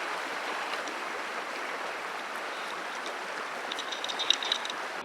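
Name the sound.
Jefferson Creek stream flowing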